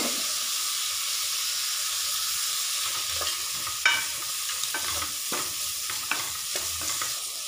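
Onions sautéing in a pan with salt for mango biryani give a continuous sizzle, broken by several sharp scraping stirs of the spoon in the second half, close and alone.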